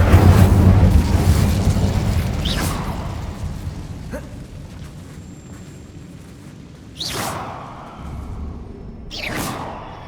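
An Incendio fire spell cast in the Hogwarts Legacy video game: a dense roar fades into several sharp whooshing bursts, with the last two flaring loud near the end.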